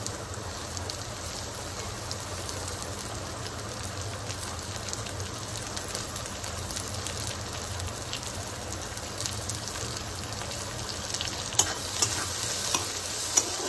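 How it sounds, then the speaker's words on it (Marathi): Finely chopped capsicum and onions fry in a pan with a constant close sizzle and scraping stirs, broken by a few sharper clinks toward the end. "बारीक चिरलेली शिमला मिरची या कांद्यामध्ये परतून घ्यायची आहे चांगली"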